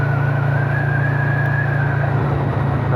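A Kawasaki Vulcan motorcycle engine on an evening ride gives a loud, steady low rumble with constant wind rush, holding an even pitch and dipping slightly near the end.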